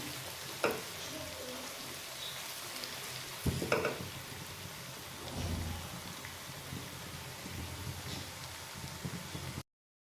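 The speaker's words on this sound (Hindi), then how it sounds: "प्याज ब्राउन हो चुकी है। तीन से 4 मिनट के लिए इसे मैं फ्राई करूँगी।" Browned onions fry in a pan with a soft, continuous rain-like crackle and sizzle, fairly quiet, broken by a few louder clunks and bumps before cutting off.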